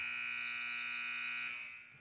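A basketball game buzzer sounds to end the first quarter, a loud steady electronic tone held for about a second and a half before cutting off and fading into faint arena noise.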